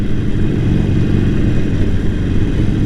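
A motorcycle engine drones steadily and loud while riding, a continuous low rumble that masks any other detail, with no speech over it.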